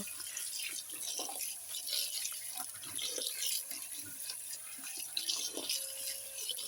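Water drains and trickles steadily from khanom jeen rice noodles left tilted in a strainer, a continuous close, soft splashing hiss that lasts throughout with no voices.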